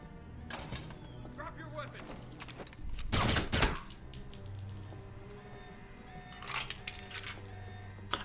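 Gunfire in the video game Alpha Protocol, with scattered shots and one heavy loud burst in the middle, then another cluster of shots later over a quieter game background.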